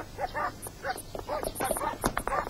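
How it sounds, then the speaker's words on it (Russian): Dogs bark in a rapid series of sharp yaps and yips, moderately near, with a steady low hum underneath and no voices. "Что это собаки разлаялись?"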